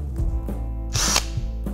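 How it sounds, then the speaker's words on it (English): A power drill whirs in a short, loud burst of about a quarter second as it drills into the back of a licence plate, with quieter mechanical clicks and knocks before and after. "Using a drill, carefully drill your holes into the back of the plate."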